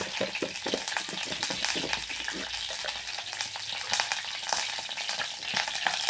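Mustard seeds crackle and pop in hot oil, a busy sizzle with sharp irregular spatters, close by and without talking.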